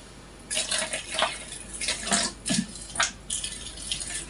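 Hot water from a kettle poured over chocolate, splashing and trickling in uneven bursts, close and moderately loud.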